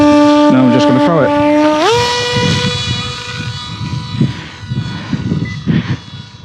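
The electric motor of a model airplane set up for iNav launch mode is throttled up into a loud, close whine that climbs sharply in pitch, holds, then fades into windy rustling and handling noise.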